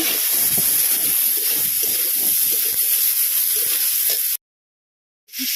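Washing water poured into a pan of spiced curry for a pointed gourd malai curry, a continuous bright hissing gush for about four seconds, then a sudden cut to silence before the hiss briefly returns.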